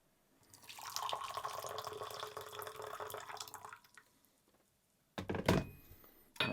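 Water pours over Dancong oolong tea leaves in a small vessel for several seconds, a soft, steady splashing rinse, followed by a sharp clatter and a second brief pour near the end.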